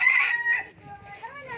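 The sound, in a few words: native chicken sounds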